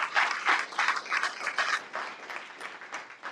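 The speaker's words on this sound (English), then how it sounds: "So another round of applause." Steady applause from an audience at a hall of fame ceremony honoring sports officials, a dense, continuous wash of clapping with no voices on top.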